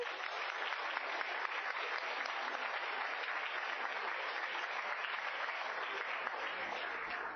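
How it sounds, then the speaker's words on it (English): Sustained applause from an audience at a school board meeting, a dense, even wash of many hands clapping that holds steady throughout without pause. "Let's give them all a round of applause."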